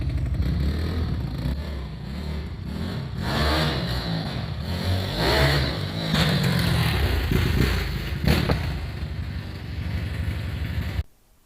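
A 160cc dirt bike engine runs close by and revs in repeated throttle blips, rising and falling loudly for about eleven seconds before cutting off abruptly.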